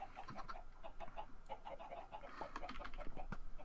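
Chickens in a farm video game cluck quietly in a steady series of short, repeated calls, faint and somewhat distant with no talking.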